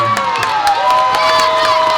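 Crowd at the end of a high school girls soccer game between West Fargo and Fargo South roars and cheers loudly and continuously as the final horn sounds, with scattered shouts and whoops over the sustained din.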